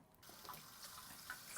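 Water pours from a rice cooker pot into a sink, a steady low splashing stream that starts abruptly after a brief quiet moment and continues at moderate volume.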